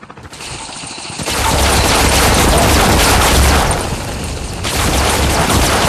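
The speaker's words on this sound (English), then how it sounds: "Be advised, hostile sentry gun spotted." Hostile sentry gun in Call of Duty Mobile firing a sustained, dense stream of rapid automatic shots, loud and close, with a brief dip before the barrage continues.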